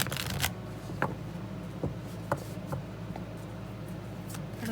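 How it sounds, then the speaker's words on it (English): A deck of tarot cards being shuffled by hand close up, with soft riffling and sliding card sounds broken by a few sharper taps over about five seconds, with no voices. "One more shuffle."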